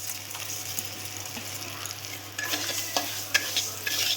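Moong dal tipped into melted butter in a wok: a low background sizzle, then a louder burst of frying and sharp stirring clatters as the lentils go in.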